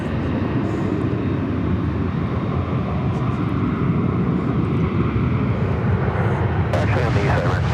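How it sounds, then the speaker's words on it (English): Aircraft rumble at DFW Airport during a plane-spotting livestream: a steady, loud jet roar that fills the whole stretch, with a brief brighter hiss near the end and no clear talk. "Just enjoying watching some beautiful airplanes"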